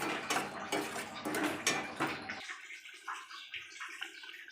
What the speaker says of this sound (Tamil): பாருங்கள், கொஞ்சம் தண்ணி ஊற்றிக்கலாங்க.